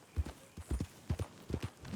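Horse hooves clip-clop in Red Dead Redemption 2, four clear paired beats in a steady trotting rhythm, close and moderately loud, with no talk.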